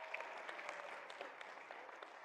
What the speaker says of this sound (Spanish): Sí, un gran aplauso, lo logró,